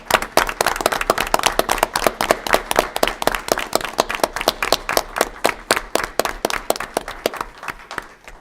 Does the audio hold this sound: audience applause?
yes